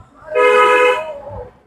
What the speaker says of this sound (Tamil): ஹார்ன் அடிச்சு.